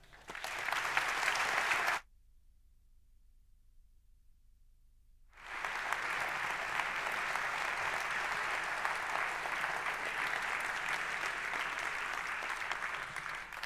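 An audience applauds for a speaker opening an afternoon plenary conference session: loud, dense clapping for two seconds, then near silence, then a long sustained ovation that stays strong to the end.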